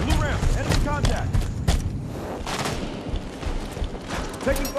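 Gunfire rattles through a Halo 5 beta Slayer match on the map Regret, with dense, near-continuous bursts and sharp reports filling the whole stretch amid busy game noise.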